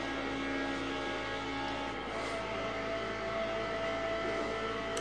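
A racing video game plays in the background, a steady mid-level engine whir and revving drone running continuously for the whole stretch, with no talk over it.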